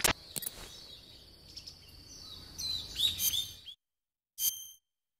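Chirping of an Alexandrian parakeet in the jungle of the video game Metal Gear Solid 3, with high, bright calls over a soft ambient bed, then a sudden silence and one last short chirp.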